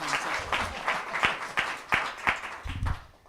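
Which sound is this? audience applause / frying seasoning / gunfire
audience applause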